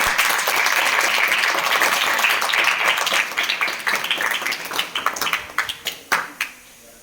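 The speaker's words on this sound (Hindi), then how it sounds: "इस गणितीय सदन को हम लोग शुरुआत जोरदार तालियों से करें" A classroom full of people clapping loudly in a dense burst, then thinning into scattered, slower claps before fading out.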